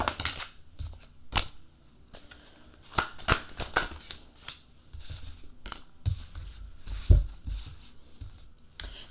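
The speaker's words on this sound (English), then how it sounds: "Let's go ahead and start the shuffle." Tarot cards being shuffled by hand, a run of crisp riffling snaps and soft slides with sharp clicks at irregular intervals, close and fairly quiet, with no talking.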